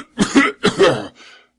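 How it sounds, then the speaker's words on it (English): A person coughs in two hoarse, close, loud bursts, followed by a fainter rasping breath trailing off. "How long have you had that cough?"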